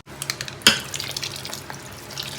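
Water is poured into mushroom curry simmering in a pan, giving a brief close splash and then soft bubbling and stirring at a low level, with no voices.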